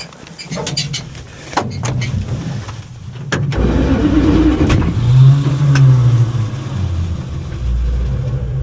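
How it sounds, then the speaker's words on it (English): An old Dodge engine that has sat for years cranks on its starter in rough bursts, then catches and rumbles unevenly as it tries to keep running, close by and fairly loud. "it kicks and the starter kicks out. Holy shit. It wants to run."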